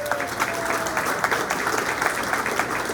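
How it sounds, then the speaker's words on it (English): A room full of people claps steadily for Dahlia, newly named superintendent of schools, at a morning community gathering; the dense, even applause runs for the whole stretch with no voices over it. "let's give her a round of applause"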